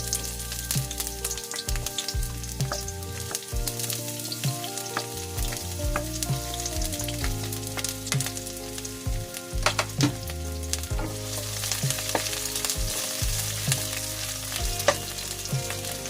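Onion sautés in oil in a pan for a chicken and vegetable dish, giving a loud, steady frying sizzle that continues throughout with occasional stirring clatter.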